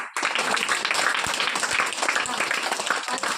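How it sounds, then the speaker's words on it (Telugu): A group of children clap together at a Christmas gift event, a dense, steady burst of applause that stays loud and close for a few seconds. "క్లాప్స్."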